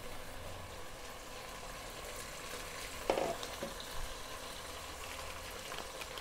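Onions frying with ginger garlic paste, mint and coriander in a home kitchen, a steady close sizzle with a couple of brief louder stirs or clatters partway through.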